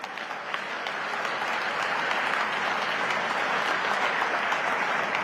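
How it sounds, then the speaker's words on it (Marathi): A large crowd claps steadily and loudly at a BJP rally and gratitude gathering in Solapur honouring Chief Minister Devendra Fadnavis, the applause dense and unbroken from start to finish. "या टाळ्या माननीय देवेंद्र फडणवीस साहेबांच्यासाठी आहेत"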